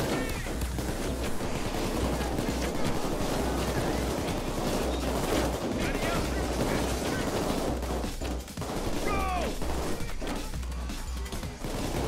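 Gunfire during a Payday 2 bank robbery, a continuous loud barrage of shots and crashes with a steady low rumble beneath, dense and unbroken for the whole stretch with a brief dip near the end.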